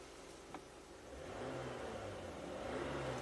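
A Toyota Avalon with a 1MZ-FE V6 engine revving after a test drive, a muffled mid-pitched engine rising and holding higher revs with a smooth whir, heard from a distance at low volume.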